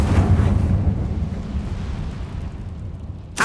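An Incendio fire spell blasts in Hogwarts Legacy: a loud, heavy roaring burst that slowly fades into a low rumble, then a short sharp crackle at the end.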